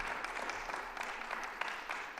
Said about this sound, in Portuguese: Podem bater palmas.